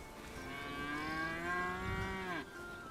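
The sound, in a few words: cow mooing in video game Bellwright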